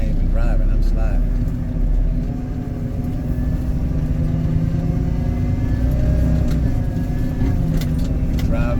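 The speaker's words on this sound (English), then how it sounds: "now I gotta back up. Looking like I'm going to a house, and I'm moving like 4 miles per hour because I'm sliding" A ready mix concrete truck backing up slowly at about 4 miles per hour on a slippery surface, a loud, steady low diesel rumble inside the cab with someone talking over it.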